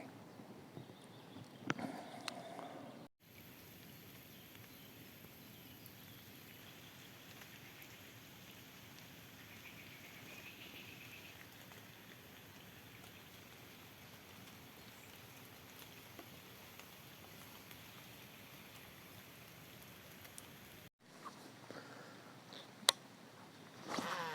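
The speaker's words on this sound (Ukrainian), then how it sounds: "то вже дощ е, моросить." Soft, steady patter of light drizzle on surfaces outdoors while pike fishing, a faint even hiss with scattered drops over a quiet background.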